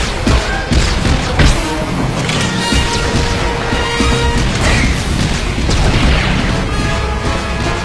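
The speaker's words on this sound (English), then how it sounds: "The Mercenary fires off a few Heatseeker missiles" Heatseeker missiles fired by a Mercenary in the Star Wars: The Old Republic game during a raid against a turret: a busy stretch of heavy thuds and booming impacts over a dense, steady layer of battle noise.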